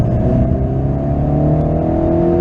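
A car engine hums steadily and slowly builds, a continuous close motor drone rising gently in pitch.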